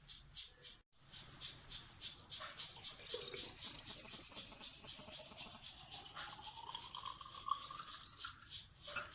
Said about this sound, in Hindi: और अब हम इसे बोतल में भरते हैं।